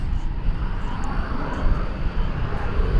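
Airliner departing DFW Airport on a flight to El Paso, heard as a steady, broad engine roar that holds at an even loudness for the whole stretch, with no voices over it.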